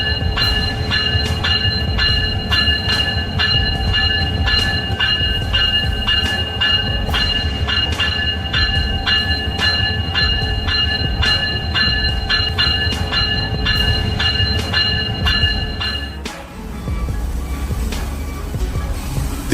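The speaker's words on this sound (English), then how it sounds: "giant train cars gracefully rotate on the tracks" Giant train cars roll and rotate on the tracks with a steady loud rumble and repeated rhythmic clanks, plus a sustained high wheel squeal that cuts off near the end.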